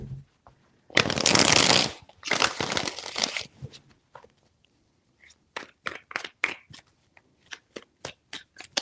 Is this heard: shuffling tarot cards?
yes